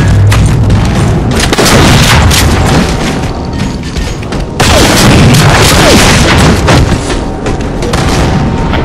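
Shotgun blasts in a video game, heavy booming shots that come fast and loud over a dense roar of game noise, with a sudden break and restart partway through.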